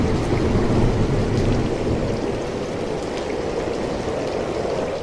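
Cartoon rain falls steadily as a dense, even hiss of downpour that is loud at first and eases slightly, with no voices.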